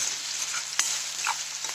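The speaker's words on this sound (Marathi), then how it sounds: "आता हे चांगलं तळून घेते" Steady hiss of spices frying in hot oil, close up, with a few light scraping stirs and crackles; no talking.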